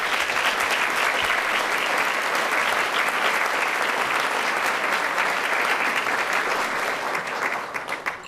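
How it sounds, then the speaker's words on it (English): Sustained applause from an audience at an evening Boys & Girls Club of the Peninsula event with Condoleezza Rice, a dense, even wash of clapping that holds steady for about eight seconds before easing slightly. "Let's give them a round of applause."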